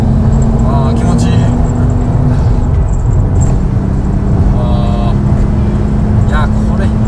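A Nissan wagon with an RB engine cruises a winding road, heard from inside as a loud, steady low engine rumble and road drone, with voices talking over it.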